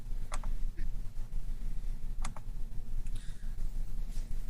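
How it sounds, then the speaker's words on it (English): Computer keyboard typing comes as a few sparse bursts of light clicks over a low, steady background hum, fairly close and with no talk. "I hear keyboard."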